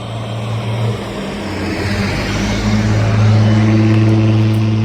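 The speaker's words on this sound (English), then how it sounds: "Tour bus." A tour bus rolls past at Gettysburg with a loud, close engine rumble and a droning low hum that builds and swells as it goes by, heard alone without talking.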